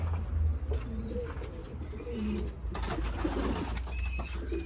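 Soft, low cooing from pigeons in a coop repeats over a steady background murmur of birds, with a few faint chirps mixed in.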